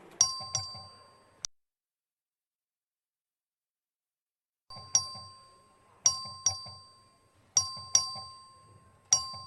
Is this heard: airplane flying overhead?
no